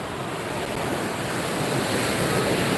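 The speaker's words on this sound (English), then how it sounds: "There's not a ton of rough waves today, which is nice." Ocean waves break steadily on the beach at Ocean City, Maryland, a continuous loud surf wash with wind noise and no talking.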